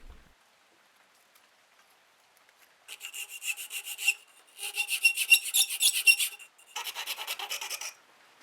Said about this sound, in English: I filed it the rest of the way to fit.